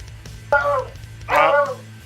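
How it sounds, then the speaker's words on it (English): Dogs barking at trash cans being brought in on trash day, two short yelping barks a second apart, fairly close over a quiet hum. "it's trash day, so everybody's bringing their trash cans back in, so my dogs go crazy."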